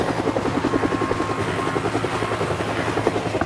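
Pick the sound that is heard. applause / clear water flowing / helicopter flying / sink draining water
helicopter flying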